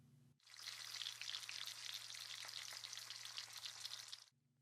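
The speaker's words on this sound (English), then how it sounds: "Brekkie was sizzling on stovetop." Breakfast frying in a pan on a stovetop, a steady loud sizzle with fine crackling that holds for about four seconds, with quiet kitchen hum before and after.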